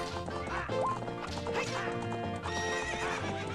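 A horse in The Legend of Zelda: Ocarina of Time whinnies amid clip-clopping hooves and game music, loud and clear over the busy in-game soundtrack.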